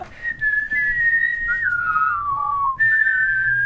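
A single person whistles a clear, sliding tune up close, the pitch dipping and rising across a few seconds.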